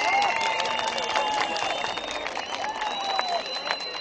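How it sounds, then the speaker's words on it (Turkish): An audience applauds a folk dance team at a Caucasian culture festival, with dense steady clapping and some crowd noise throughout, while a voice or music sits faintly in the background. "dördüncü ekibimize de teşekkür ediyoruz ve alkışlar için size başvuruyoruz"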